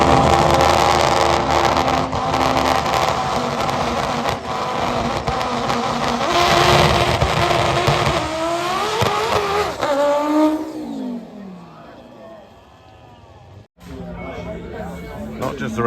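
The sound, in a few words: turbo VW Golf Mk5 drag racing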